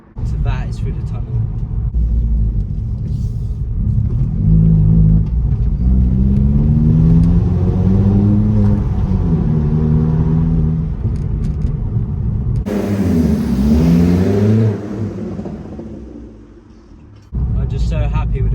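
Vauxhall Corsa with a Fastlanestyling exhaust driving through a tunnel, engine droning and climbing through revs with a booming, enclosed rumble, then easing off before a louder burst near the end.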